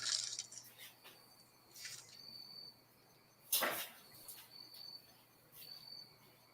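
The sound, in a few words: crickets chirping outside at dusk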